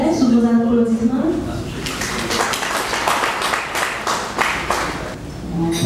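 Applause from an audience at a university scientific talk, a dense patter of clapping that builds after a spoken introduction and carries on steadily, fairly close and loud.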